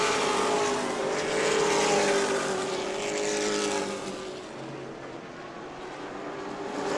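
Race cars roaring past at New Smyrna, a loud, sweeping engine drone that swells and fades as the pack goes by at a distance, heard alone without voices.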